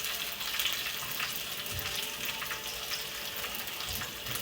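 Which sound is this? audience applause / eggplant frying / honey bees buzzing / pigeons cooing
eggplant frying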